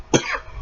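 A single short, sharp cough from one person, close and fairly loud, followed by a brief rasping tail and then quiet background.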